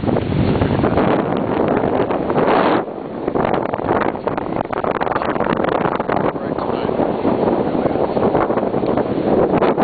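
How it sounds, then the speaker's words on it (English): Strong sea breeze buffeting the microphone at Cardiff Beach in Encinitas, California, on the Pacific at dusk, a loud continuous roar with a brief lull. "Breezy."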